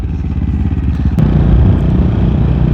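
Loud, close engine rumble from a 2023 CCM Maverick scrambler motorcycle riding through a tunnel, a gritty, pulsing roar that swells slightly partway through as the throttle opens, with no voices.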